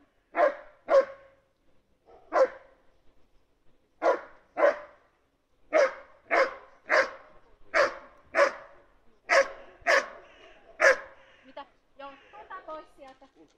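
A dog at a dog behaviour test barks in a steady series of about a dozen loud, close barks with short gaps, ending in softer yips.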